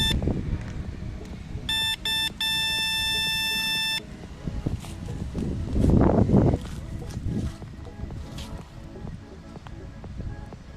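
An electric bicycle's 5 or 12 volt horn buzzer sounds in two short bursts and then one longer held tone, loud and close, with faint background noise afterward.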